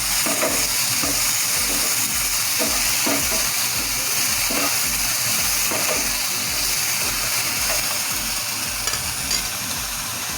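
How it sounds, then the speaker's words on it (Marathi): Moth beans frying in a little oil for misal, a steady dense sizzle with repeated stirring scrapes throughout, close and loud with no talking. "ते 1 मिनिट आपल्याला फ्राय करून घ्यायचे तेलामध्ये मटकी"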